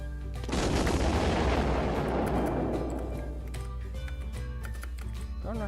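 Blaster fire from a Star Wars mod in Minecraft: a loud, dense burst of rapid shots over the first few seconds, then fading into a busy trail of clicks and tones.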